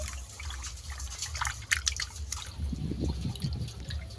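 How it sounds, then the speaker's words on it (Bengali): Salt being stirred into water in a bowl, with light liquid swishes, drips and small clinks that grow busier and louder toward the end, close up and with no talking. "দিয়ে ভালো করে জলটাকে একটু গুলিয়ে নেব, লবণটা গুলে যাওয়া পর্যন্ত"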